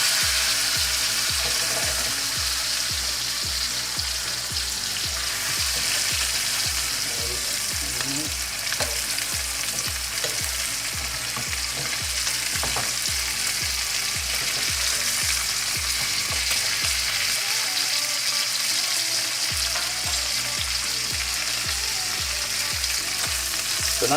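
Sous vide New York steaks sizzle steadily on a stovetop pan after being flipped, a loud, continuous frying hiss over a regular low pulsing beat throughout.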